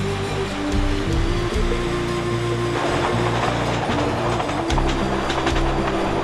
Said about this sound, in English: We finally made it to the train that would take us in the rest of the way